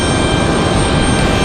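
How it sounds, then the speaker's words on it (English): A Boeing C-17 military jet departing produces a loud, steady, broadband roar that holds constant through the short moment, with no voices over it. "a good looking departure there for that C-17"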